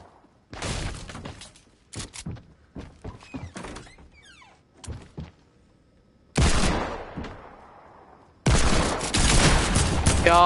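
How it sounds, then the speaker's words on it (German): Pump shotgun fire in a streamed video game: a run of sharp, punchy blasts and impacts, followed by two long, loud roaring bursts of gunfire close up. "Schieße mit Pump."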